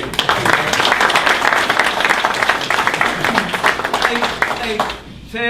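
Applause breaks out at a St. Albans city council meeting, with dense, steady clapping for several seconds mixed with voices, then fading near the end.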